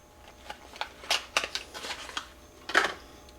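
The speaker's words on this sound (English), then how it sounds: "It came in a plastic bag. I just took it out." A new 6006 ball bearing, the replacement PTO bearing for a Cub Cadet mower, is pulled from a plastic bag, giving a string of close, crinkly rustling bursts with short pauses between them and no talking.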